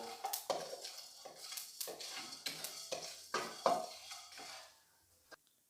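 Fennel seeds and black peppercorns dry roasting in a pan, stirred with a utensil. Light scraping and rattling come in irregular strokes alongside a faint sizzle, close and quiet, with no talking.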